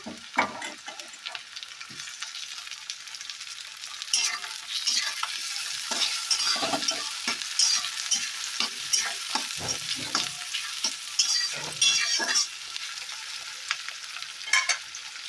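Tomato pieces go into a hot pan for ghugni and are stir-fried, a bright crackling sizzle broken by repeated spatula scrapes and knocks, busier and louder from around the fourth second.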